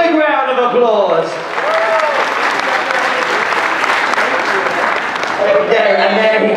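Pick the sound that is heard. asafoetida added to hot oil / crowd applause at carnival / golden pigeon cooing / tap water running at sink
crowd applause at carnival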